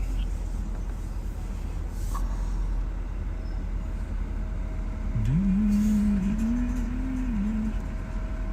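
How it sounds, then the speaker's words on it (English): A bus pulls ahead on the road, its engine whine rising in a clear tone over steady traffic rumble, moderately close, with voices and radio chatter around it. "I'm just here to wave the bus ahead"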